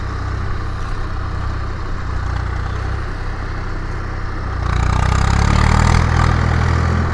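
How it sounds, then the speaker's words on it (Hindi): A Swaraj 744 FE tractor with a 3136 cc engine idles with a steady, loud mid-low chug, then revs up and grows louder and rougher for the last couple of seconds, with no voices. "ये ट्रैक्टर तो काफ़ी दमदार है स्वराज का, 744 एफी है।"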